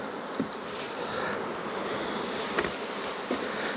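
Honeybees in a mating nuc give off a dense, steady buzz close by, with a high insect hum running continuously and no voices.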